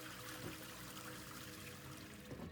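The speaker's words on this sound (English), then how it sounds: "We finally get to flush the toilet" A toilet flushing in the video game Satisfactory, a quiet, continuous watery rush and trickle, steady and alone.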